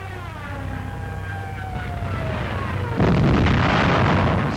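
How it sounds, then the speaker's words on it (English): Bomb blasts from World War II dive bombing on the Eastern Front, heard as a continuous rumbling roar with a falling whine that gives way to a louder broadband explosive burst at about three seconds, in an old newsreel recording. "watched some accurate dive bombing."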